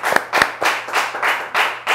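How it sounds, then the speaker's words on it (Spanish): A small, socially distanced studio audience claps in a few quick, rhythmic bursts, about six distinct clusters of hand claps, close and fairly loud, with short gaps between them. "Un aplauso para los que estamos acá."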